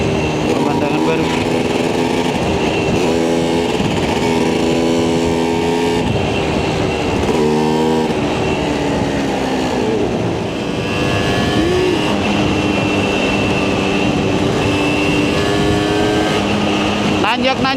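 A Vespa Special 90 scooter with a close-ratio gearbox climbs hilly roads around Dieng, its small engine droning loudly and steadily with pitch rising and falling through gear changes, while a rider talks over it.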